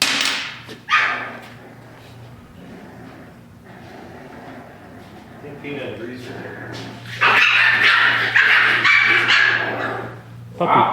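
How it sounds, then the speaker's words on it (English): Puppies scuffle and bark, sharp yips and whimpers breaking out in bursts, growing louder and more frantic toward the end, with voices talking intermittently. "Puppy fight. Things got serious over there."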